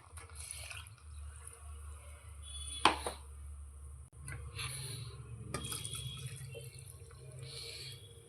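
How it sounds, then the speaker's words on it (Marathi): Water pours and splashes into a pot of egg biryani with rice, with a few drips and a sharp clink, over a low steady hum. "याच्यामध्ये आता आपण पाणी ॲड करायचं आहे"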